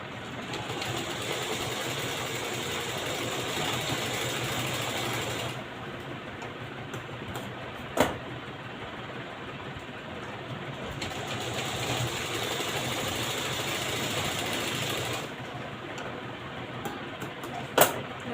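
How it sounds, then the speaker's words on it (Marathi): A sewing machine stitches a seam in a blouse, a steady close whirring hum that runs continuously with two brief pauses in the motor and a couple of sharp clicks. "आता आपण शिलाई मारून घेणार आहे."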